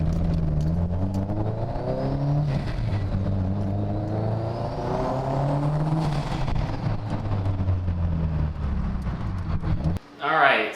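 A Subaru Impreza 2.5RS fitted with Spal cooling fans drives along, its engine droning and rising and falling through gear changes over steady road noise, heard from inside the car.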